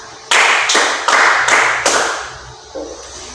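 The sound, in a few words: class giving five claps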